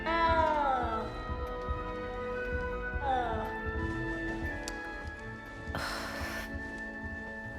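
Cat meowing in the video game Hogwarts Legacy: two drawn-out, descending meows a few seconds apart, clear over a soft ambient game background, followed by a brief burst of noise.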